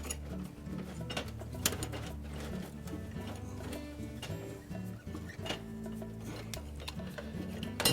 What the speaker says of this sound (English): Match the 2 wire ends together, and then thread on the wire nut.